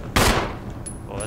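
A loud, close gunshot from the Resident Evil HD Remaster video game cracks once and echoes away, followed by faint metallic clicks and high ringing game sounds.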